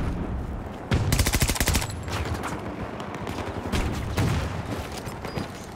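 Rapid SMG bursts in Battlefield 2042 on the Hourglass map, with one sustained automatic volley up front, then shorter strings of shots and faint distant gunfire mixed into busy battle ambience.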